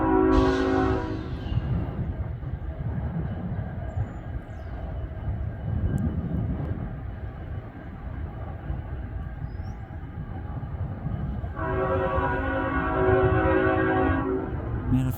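CN freight manifest train led by locomotive 3033 arriving southbound at Ladysmith, a steady low rumble of rolling cars throughout with a loud horn blast at the start and another sustained horn near the end.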